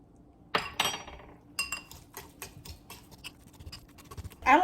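A small fork mashes cooked whelk into a paste in a bowl, giving sharp clinks and scrapes of metal against the dish in an uneven run of taps, close up with no talk.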